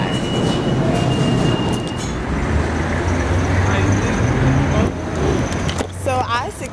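A New York subway train rides along with a loud, steady rumble and clatter. Metallic wheel squeal rises near the end, and voices talk over it.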